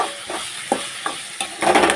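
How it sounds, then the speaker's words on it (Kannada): Tomatoes frying in a pan with salt and turmeric, a steady sizzle broken by a few sharp scrapes of a spoon stirring, the frying growing louder and denser toward the end; no talking. "ಟೊಮೊಟೊ ಹಾಕಿ ಇವಾಗ ಟೊಮೊಟೊ ಚೆನ್ನಾಗಿ ಫ್ರೈ ಆಗಬೇಕು."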